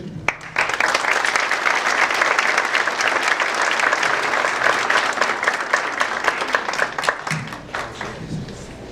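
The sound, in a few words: audience applause welcoming conference speaker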